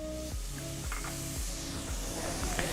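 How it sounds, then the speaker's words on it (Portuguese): Garlic, onion and pepper sizzle steadily in palm oil in a very hot pan while a fish stew is cooked, a continuous close hiss and crackle with no talking. "Alho, cebola e pimenta de cheiro no azeite de dendê, panela bem quente"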